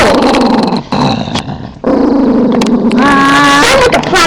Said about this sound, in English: He's a growly puppy.